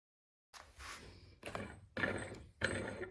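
Screw hardware of a wooden Moxon vice with cork-lined jaws being spun, four short bursts of dry grinding, rattling mechanism noise separated by brief pauses, close and quiet.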